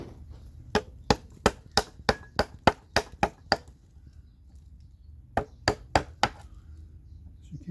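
A chisel struck by a mallet while shaping saddle stirrups for the Moraga Adobe saddle: a fast run of about ten sharp wooden knocks, a pause, then four more, close and loud.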